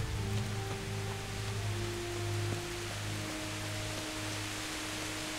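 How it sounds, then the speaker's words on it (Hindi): Steady rain in the video game Kingdom Come: Deliverance patters as a constant wash of noise, with a faint low hum underneath and no voices. "बारिश इतनी क्यों गिरने लग गई,"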